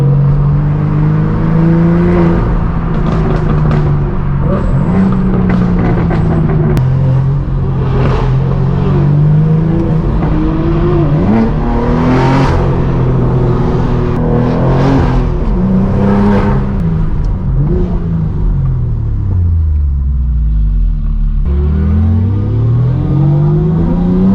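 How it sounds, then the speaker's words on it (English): Loud engine noise from several V10 cars, revving and accelerating with rising and falling pitch throughout, close by and continuous. "we've got the sounds of V10s in front of us"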